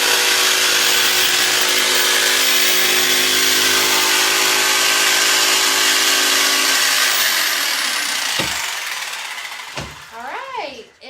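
A jigsaw cuts along the grain of a board for a bunny shape, a loud, close, steady buzzing rasp for about eight seconds that then winds down and stops, followed by a few knocks and someone talking.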